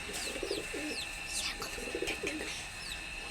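A male pigeon, or tirumankachi, cooing in repeated low soft phrases under rain-laden sky, close by, with faint higher chirps of other birds in the background.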